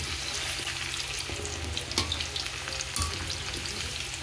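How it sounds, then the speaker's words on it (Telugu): Amla (Indian gooseberries) frying in hot oil for pickle, a dense continuous sizzle with a few sharp pops and crackles, close and alone without any voices. "ఇలా అన్నీ వేయించుకోవాలి."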